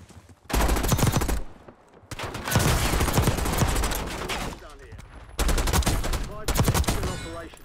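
Rapid SMG fire, the KSV, in Call of Duty Warzone: several loud close bursts of full-auto shots separated by short pauses, with a voice talking between them.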